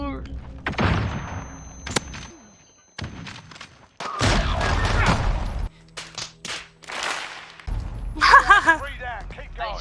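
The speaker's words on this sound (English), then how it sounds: "I shot him 3 times and he didn't die." Gunfire in Modern Warfare, sharp shots and short bursts scattered through a chaotic firefight, with thumps, clicks and game sounds in between, loud and close.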